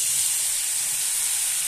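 Water poured into a hot frying pan of fried red-lentil fritters and ground spices sends up a loud, steady hiss of steam and sizzle, close and continuous throughout, with no talking.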